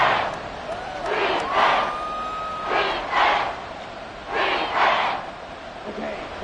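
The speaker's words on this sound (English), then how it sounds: "this crowd is making an impact right now" Stadium crowd in the Madden NFL 24 football video game roars in rolling swells, rising and falling in several loud waves of cheering and chanting across a continuous background din.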